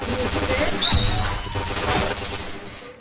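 Rapid gunfire from the online shooter game PointBlank, a continuous dense clatter of shots with a voice talking over it throughout.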